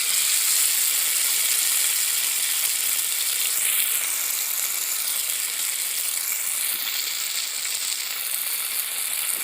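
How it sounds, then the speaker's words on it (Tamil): Continuous loud, hissing sizzle of fish frying in hot cold-pressed sesame oil in a small kadai, close up and steady, with no talking. "இப்போ நான் அந்த சின்ன கடாய் வச்சுருக்கேன், இதில் போட்டு பொரிக்க போகிறேன்."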